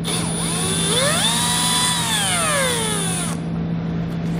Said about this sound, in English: So we're going to grab a T25 Torx bit and pull that out.